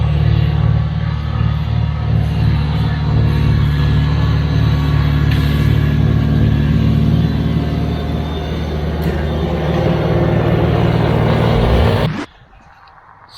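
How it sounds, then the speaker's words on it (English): A Kubota BX tractor with a snowblower runs loudly and close for about twelve seconds, a steady low engine rumble with the auger churning, before cutting off abruptly into near silence. "this side of the auger, it always shoots the snow out over here and up onto the top of the snowblower"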